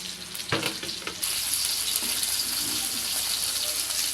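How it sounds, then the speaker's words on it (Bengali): Snakehead fish fry in hot oil with a continuous, close hissing sizzle, preceded by a few quick clattering stirs at the start. "মাছগুলো আমার লাল লাল করে ভেজে নেওয়া হয়ে গেছে"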